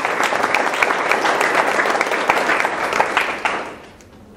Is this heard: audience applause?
yes